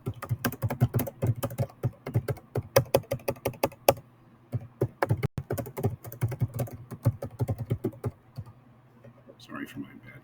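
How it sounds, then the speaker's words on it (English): Rapid clicking of computer keys in uneven bursts, close and clear, with a brief pause midway and a faint voice near the end. "Sorry for my bad typing. I never really learned how to type on a computer."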